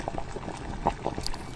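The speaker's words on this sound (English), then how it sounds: "You just gotta bring it up to a boil right now, so all the ingredients can mesh together." Rice noodle soup broth for roast duck noodle soup comes to a boil, giving soft bubbling and small gurgling pops that are close and moderately quiet, with no voices.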